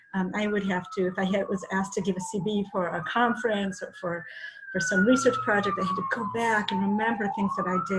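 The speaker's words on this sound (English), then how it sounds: "Sorry about the sirens." A wailing emergency vehicle siren outside an office near a hospital rises and falls steadily beneath continuous close speech, staying audible throughout.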